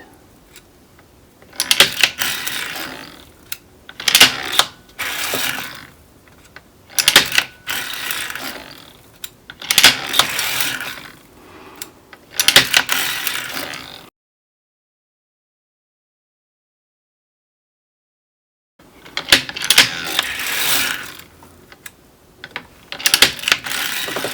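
An NZAK circular sock knitting machine clatters and ratchets in rhythmic bursts as a sock is knitted, close and clear, with a long silent gap partway through before the cranking resumes.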